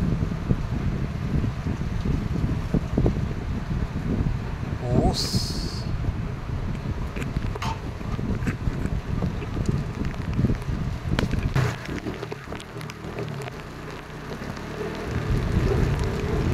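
Heavy Monday-morning rain falls on a flooded street before a motorbike ride, a dense continuous wash of noise that stays fairly loud, with a brief spoken word and a passing tone partway through.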